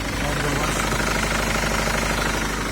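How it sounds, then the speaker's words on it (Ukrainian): A Mercedes Sprinter van's engine idles up close, a loud, dense, steady mechanical rumble with rapid rhythmic knocking texture that never lets up. "моторчик тут чисто працює"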